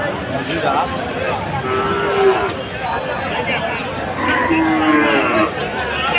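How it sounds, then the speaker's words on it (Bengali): Cattle low at intervals amid a busy outdoor crowd at a livestock market before Eid, with people talking throughout and occasional moos rising above the murmur. "সারি সারি অবস্থায় গরু।"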